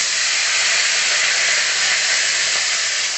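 Vegetables frying in reused hot oil in a wok, a steady, loud, continuous sizzle and hiss with no break and no voices over it.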